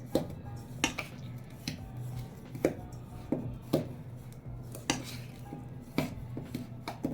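Ground dry fruits are stirred into flour for fenugreek-seed methi laddu, a spoon clinking against a bowl in regular, light taps over a soft background scraping, fairly quiet and close.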